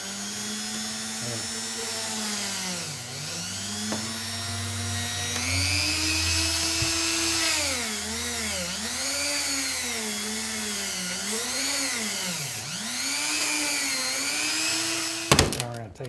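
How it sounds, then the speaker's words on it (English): A Dremel rotary tool hollows out the eye area of a squirrel taxidermy form, making a close, steady high whine that dips and rises in pitch as the bit bites and eases off, ending with a brief clatter. "So we take the Dremel."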